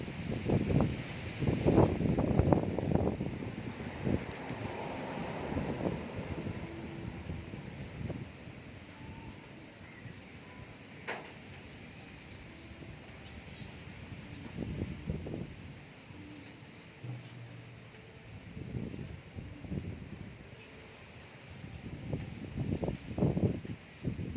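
Gusts of wind rush past outdoors, rising and falling in soft, breathy surges that swell loudest near the start and again at the end, with quieter lulls between and no voices.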